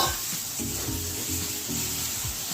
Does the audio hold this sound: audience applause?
no